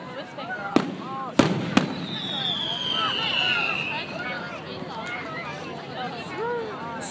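Fireworks at a Strawberry Festival: a few sharp bangs near the start, then a long whistling rocket, all over a steady crowd babble and nearby voices talking.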